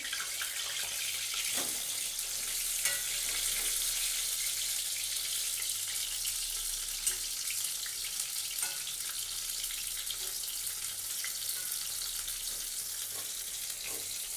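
Green banana fritters frying in a pan, a continuous bright sizzle and crackle with small popping bursts, close and even in level throughout, no voices.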